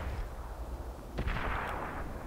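A tank cannon fires once in World of Tanks, a single sharp boom with a broad burst that rolls into a lingering rumble over steady background game noise.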